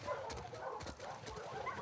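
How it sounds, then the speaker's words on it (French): A dog in The Last of Us Part 2 makes faint, soft vocal sounds inside a low, muffled game soundscape, with no speech over it. "il y a un chien"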